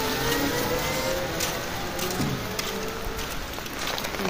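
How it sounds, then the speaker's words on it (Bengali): Heavy rain pouring down in a village, a dense, continuous wash of drops hitting surfaces, close and steady throughout, with no voices. "সকাল থেকে জল হয়েই যাচ্ছে"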